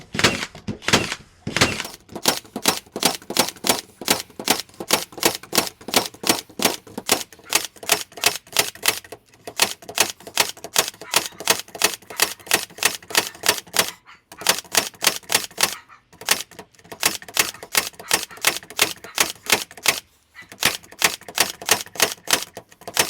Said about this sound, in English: We're going to just fire off all these nails here into these 3 layers